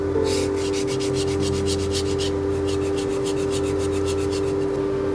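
Belt grinder grinding the bevel of a knife blade, a steady motor hum with a constant tonal whine under repeated rhythmic rasping passes of steel against the belt, close and fairly loud, with no talk.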